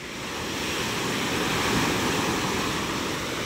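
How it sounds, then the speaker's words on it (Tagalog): Big ocean waves breaking on the shore at Barangay Julugan, Tanza, Cavite, near a seafood selling spot, make a steady, loud, broad roar of surf that swells slightly and holds throughout, with no voices. "Malalaki ang ating alon."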